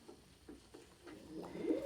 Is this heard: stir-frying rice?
no